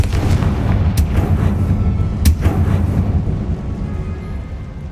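Two sharp blasts from the Confringo fire spell in Hogwarts Legacy burst over a steady low rumble, about a second apart, loud and close.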